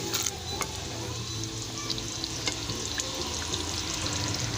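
Lauki chana dal sizzling in a pan as it is stirred, a steady close frying hiss with occasional spoon scrapes and pops.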